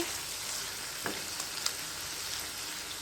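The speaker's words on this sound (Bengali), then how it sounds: "এই তো আমি নেড়ে চেড়ে খুব ভালোভাবে মশলাটা কষিয়ে নিয়ে নিয়েছি" Spice paste sizzles steadily in a pan while being stirred for an okra curry. The frying hiss is soft and continuous, broken by a few faint scraping clicks from the stirring, with no voices.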